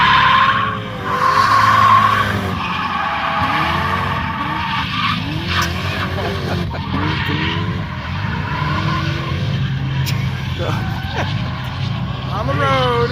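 Car skidding and squealing its tires on a road course, loud and close for the full stretch, with engine noise and people talking over it.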